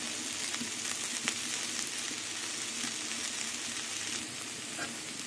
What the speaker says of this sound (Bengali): কাঁকরোল দিয়ে আলু ভাজা হয়ে গেছে